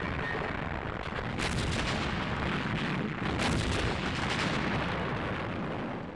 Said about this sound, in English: British artillery broke up the assault, and the panzers were quickly halted.